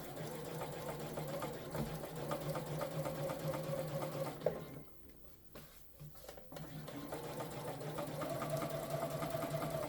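A sewing machine runs steadily at close range while understitching a seam to a pocket, humming evenly with a brief pause midway before stitching resumes.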